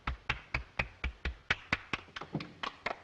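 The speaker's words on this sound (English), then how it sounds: "Applaud." A single person's hands clap in a sparse, fairly regular rhythm, about a dozen sharp, close claps spaced roughly a quarter second apart in a quiet room.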